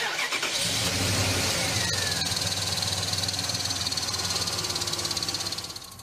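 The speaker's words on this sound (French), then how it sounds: "je propose qu'on allume le moteur avant qu'il ne revienne" A car engine with a broken power-steering pump runs loud and close with a steady rumble and a high whine, fading slightly at the end, with no voices.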